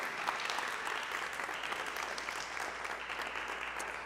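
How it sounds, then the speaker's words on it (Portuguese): A church congregation claps steadily in praise of Jesus, a continuous wash of applause heard at a moderate distance and fairly faint, with no one speaking over it. "Você pode aplaudir Jesus por isso?"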